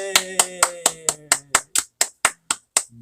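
An audience greets a lecturer coming on stage at an emotion-talk festival broadcast with about a dozen crisp claps in steady unison, evenly spaced, with a faint sustained tone beneath.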